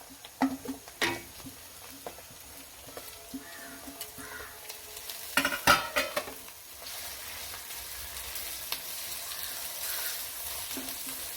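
Green chillies and curry leaves sauté in a pan for a Kerala sardine pickle, with a quiet, steady sizzle, scattered clinks and scraping of stirring, and a busier burst of crackle midway.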